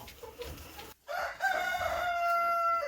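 Chickens in a coop, agitated by people working inside: a hen's short cluck, a brief pause, then loud drawn-out crowing and squawks, close by.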